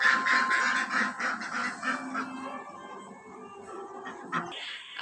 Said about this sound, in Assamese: আমাৰ হাঁহকেইটা ইমান ধুনীয়াকৈ টেট কৰি থাকে